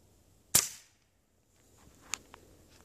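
A modded Crosman 1377 PCP air pistol fires a single 14.3 grain Crosman Premier hollow point over a chronograph, one sharp, loud close crack that decays quickly, followed by faint small clicks.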